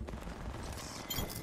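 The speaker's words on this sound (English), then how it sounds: "Reloading." Weapon reload in the video game Apex Legends on the Kings Canyon map: quick metallic clicks and clinks of the magazine and action, with a brighter clatter near the end, over steady game background noise.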